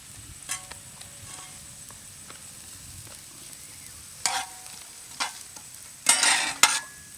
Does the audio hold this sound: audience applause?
no